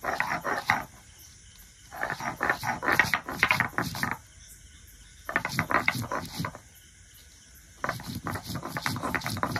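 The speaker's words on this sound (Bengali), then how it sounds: "এবারে শুকনো লঙ্কাটা বেটে নেব।" Dried red chillies are ground into a paste, probably on a stone grinder, giving rhythmic bursts of scraping and rubbing separated by short quiet pauses.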